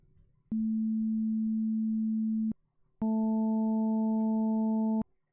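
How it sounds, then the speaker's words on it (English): Two steady electronic test tones, each about two seconds long with a brief gap between: first a pure low hum, then a richer buzzy tone with overtones. "It's a bunch of tones."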